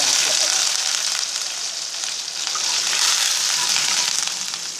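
Dried red chillies and curry leaves hit hot oil in a pan, producing a loud, dense, unbroken hissing sizzle up close that holds steady throughout.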